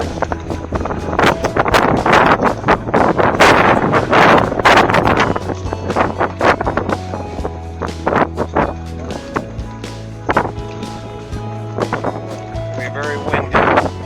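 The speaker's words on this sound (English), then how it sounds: "Very windy." Strong gusting wind on Santorini buffets the microphone in rough, uneven roaring bursts near a cliffside village, loud and close throughout, with occasional voices beneath the rush.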